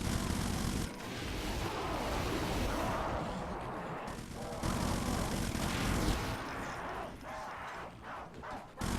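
Chaingunner enemies in the classic shooter Doom fire their chainguns in loud, rapid bursts that stop and start, close and harsh, with someone talking over parts of it.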